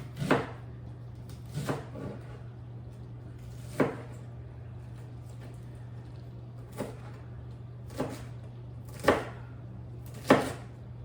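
A knife shreds iceberg lettuce on a board for Big Mac bowls, giving about eight sharp, separate chops spread unevenly over a quiet kitchen hum.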